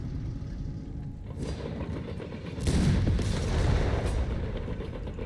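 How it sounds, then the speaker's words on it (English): Anti-tank guns firing in the Company of Heroes 3 video game, heavy booms and rumbling blasts mixed into a dense, continuous battle din. "American anti-tank guns do not miss the Panzer III."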